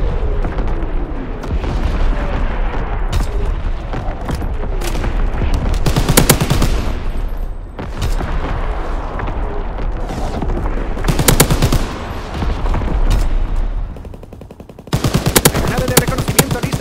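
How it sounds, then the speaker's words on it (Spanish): Heavy artillery battery and automatic weapons fire in Call of Duty WWII, with loud repeated booming blasts and rapid bursts of gunfire filling the battlefield, broken by brief lulls. "Disparando la primera batería"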